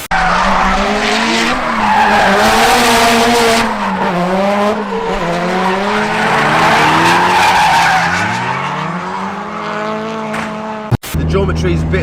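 A JDM Nissan S15 drifts on a street, tires squealing loudly and continuously over a revving, sweeping engine note that rises and falls for several seconds before cutting off abruptly.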